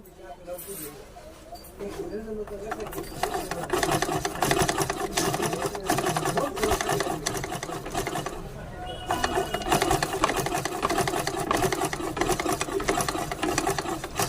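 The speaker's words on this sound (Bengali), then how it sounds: "এখন মেশিনটি চালিয়ে দেখাবো যে এটি সেলাই ঠিক আছে কিনা" A sewing machine that had been jamming runs and stitches in a fast, steady mechanical rhythm, loud and close, with a brief pause midway before it picks up again.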